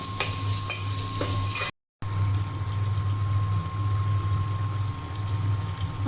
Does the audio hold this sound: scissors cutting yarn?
no